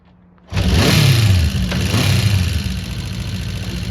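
A Honda CB400 Four classic motorcycle under restoration starts and runs loudly nearby, its engine settling into a steady idle with a clattering cam chain rattle through the mechanical hum.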